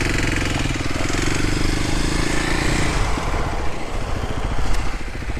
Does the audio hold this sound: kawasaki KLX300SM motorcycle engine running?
yes